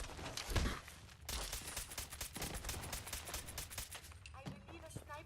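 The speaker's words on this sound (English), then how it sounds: "I believe a sniper has found us." Sniper rifle shots sound in a Fallout video game on very hard difficulty: a heavy boom, then a long stretch of rapid crackling impacts, and a few sharp hits near the end, fairly loud throughout.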